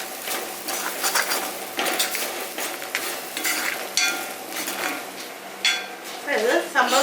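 Grated sweet potato stirred in a pan for a chutney gives soft scraping and light sizzling, with spoon scrapes in an irregular rhythm, close by. Someone talks over it near the end.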